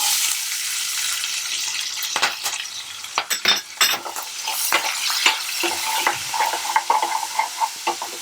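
Curry leaves, green chillies and onion sizzle in hot oil in a pan while a spoon stirs and scrapes, producing loud crackling with uneven bursts of spattering.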